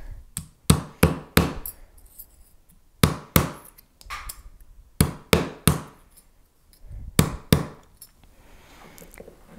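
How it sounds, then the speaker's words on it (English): A rawhide mallet strikes an enameled copper piece resting on a steel bench block, giving a series of sharp, close taps in uneven clusters of two to four, with short pauses between groups. "I'm going to use a rawhide mallet and my steel bench block to flatten it back out."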